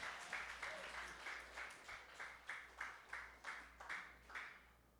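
A congregation at a Sunday worship and healing service claps in even, rhythmic bursts about twice a second. The clapping is faint and sounds distant, over a low steady hum.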